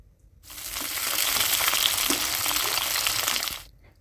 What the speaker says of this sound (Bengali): পেঁয়াজ আর ক্যাপসিকাম একসাথে আমি এইভাবে ভেজে নিচ্ছি